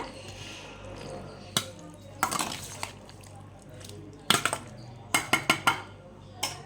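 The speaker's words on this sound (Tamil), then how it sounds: "கொஞ்சம் நல்லா கிண்டிக்கோங்க" A spoon stirs a cool natural drink in a glass, a scatter of bright clinks against the sides, a few isolated taps then a quick cluster near the end, over a low, soft background.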